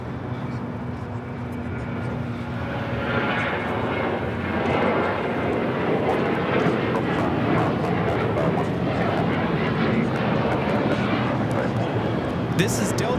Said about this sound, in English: 478 taking off to Austin on the 737-800